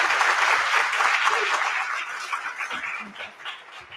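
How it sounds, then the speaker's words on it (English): An audience at a university lecture claps loudly for the speaker. The dense applause gradually thins out and fades toward the end. "Let's give a round of applause."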